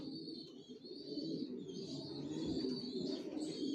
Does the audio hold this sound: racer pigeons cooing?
yes